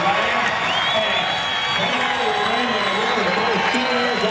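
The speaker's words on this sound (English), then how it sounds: "here it comes, the ovation" A packed grandstand at Pomona Raceway during the drag racing finals roars in a sustained ovation, continuous loud crowd noise with cheering and whistles while a commentator talks over it.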